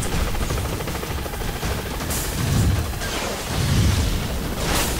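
Racing-game audio from Split Second in which an attack helicopter roars overhead while missile blasts and heavy booms swell repeatedly through a dense, continuous wash of engine and combat noise.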